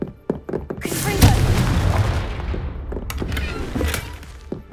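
A Confringo fire spell explodes in Hogwarts Legacy, a loud booming blast with a crackling burst that trails off over several seconds, followed by further sharp impacts.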